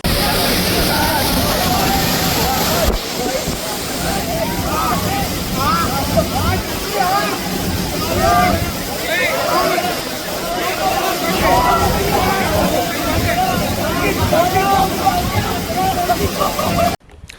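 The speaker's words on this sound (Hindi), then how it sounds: "वाटरफॉल के जब अंदर गया तो भपका मार रहा था, ऐसे धाड़ करके नीचे आ रहा था ना" A waterfall in Chakrata, Uttarakhand, roaring as it crashes down: a loud, constant rushing wash heard up close, with people talking over it.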